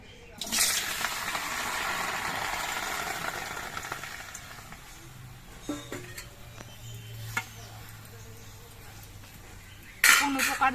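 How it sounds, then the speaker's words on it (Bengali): Tomatoes dropped into a dry, preheated kadai give a burst of sizzling hiss at the start. It fades into a steady low crackle with a few clinks of utensils, then a sharper rattle near the end. "এবার এই টমেটোগুলো কড়াইয়ের মধ্যে দিয়ে দিয়েছি"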